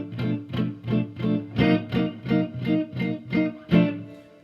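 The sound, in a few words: electric guitar playing a G ninth chord, slow blues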